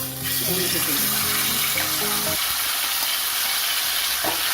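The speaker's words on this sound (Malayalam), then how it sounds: "കുറേശ്ശെ കുറേശ്ശെ ഇട്ട് ചുങ്ങി പോകാതെ വൃത്തിയായിട്ട് വറുത്തെടുക്കാം" Seer fish fries in coconut oil in a pan, a dense, loud, continuous sizzle that swells after a brief opening, with faint tonal background sounds early on.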